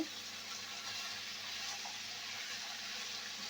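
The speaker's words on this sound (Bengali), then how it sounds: "একটু হালকা আমি নেড়ে চেড়ে ভেজে নিচ্ছি" Potato and papaya being stirred and fried in a pan, giving a steady, even hiss of sizzling oil close by, continuous and without talking.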